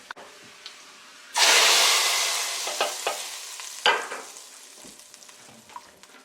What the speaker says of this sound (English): I'm just getting the garlic a bit black, a bit more black.